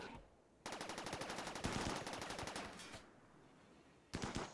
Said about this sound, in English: So we're just going to sit here and fire at these guys.